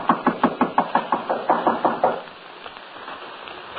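Knocking on a wooden door in a 1942 radio drama: about a dozen firm, evenly spaced raps, close and loud, then stopping into a quiet room tone.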